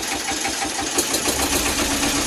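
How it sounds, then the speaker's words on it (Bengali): A boat engine on the Kushiyara River chugs steadily with a rough, knocking rumble, loud and close, running continuously without pause. "গাড়ি ভাই স্টার্ট করে দিলেন"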